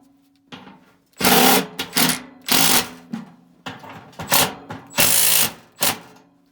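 A power driver runs screws into the mounting of an Evergreen ECM blower motor in an ICP Comfortmaker unit, giving about seven loud, close whirring bursts separated by brief pauses.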